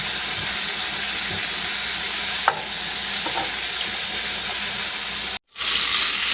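Chicken frying in a pan after being flipped, giving a loud, steady sizzle with a few faint clinks of utensils, briefly cut out near the end.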